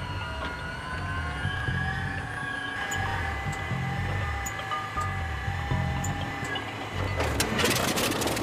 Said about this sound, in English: As with many World War II-era aircraft, starting the engine cold is a haphazard and messy affair.